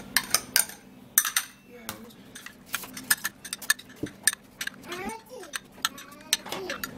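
Moringa seed being mashed together with onion juice in a bowl, giving irregular clinks and scrapes of a utensil against the bowl, with a voice faintly present in the background.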